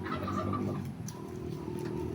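Turkeys gobble and murmur nearby, a short burst of warbling calls over a steady low background.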